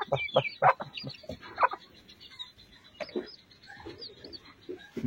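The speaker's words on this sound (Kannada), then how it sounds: "ಕೋಳಿಗಳಿದೆ ಅಲ್ಲಿ. ಇನ್ನೊಂದು ಕೋಳಿ ಮರಿ ಎಲ್ಲ ಹೋಗಿದೆ." Native country chickens cluck and chatter in short, irregular bursts close by, with pauses between calls and no speech.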